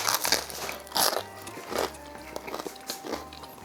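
Crunchy bread grilled over a campfire is bitten and chewed up close, with sharp, crackly crunches every second or so, then quieter chewing between bites.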